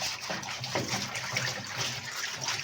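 Water sloshes and splashes steadily inside a Haier twin-tub washing machine as caked mud is scrubbed off with a brush, a continuous close wet churning with no voices.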